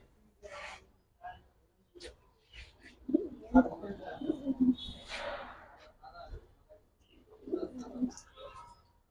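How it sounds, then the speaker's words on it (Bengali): Yellow-eyed pigeons in a Bangladeshi pigeon market coo softly in low, throaty murmurs, mixed with faint rustling and nearby voices talking. "এটা হলুদ চোখের কবুতর এই একটা বেজি ফ্যাটের কবুতর"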